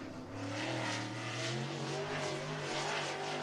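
A race car laps Cottage Grove Speedway, a dirt oval in Cottage Grove, Oregon, its engine roaring loud and steady with rising and falling revs throughout, no voices over it.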